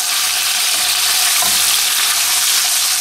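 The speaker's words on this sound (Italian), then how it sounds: "Giriamo adesso le nostre braccioline, vedete che cominciano a colorirsi." Pork chops browning in a pan before white wine goes in, a loud, close, continuous sizzle and crackle of frying with a brief stir as the meat is turned, no talking.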